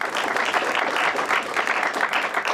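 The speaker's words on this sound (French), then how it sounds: "Merci au public qu'on peut applaudir bien fort." Studio audience applauding at the close of a television programme, a continuous, fairly close patter of many hands clapping at even strength, with no speech over it.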